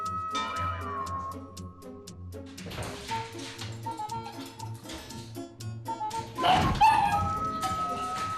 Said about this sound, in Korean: 이제 배지는 밑에서 또 깡깡 짖고